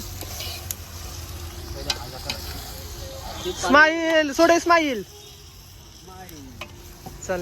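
Chicken sizzles in a pan over a wood-fired clay stove with a steady crackle and occasional stirring clicks, while a voice speaks briefly in the middle.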